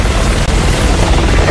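An armored helicopter in the Resident Evil 6 video game: a loud, dense roar of rotor and engine noise with booming battle sounds, continuous and close, with no speech.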